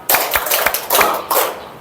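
A group clapping hands in loose rhythm during a classroom activity, loud close claps in short bursts with uneven spacing and overlapping hands.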